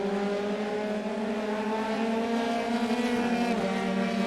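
F3 race cars in the iRacing simulator, a steady high engine drone of several cars held at speed on track, moderately loud and continuous with no talking.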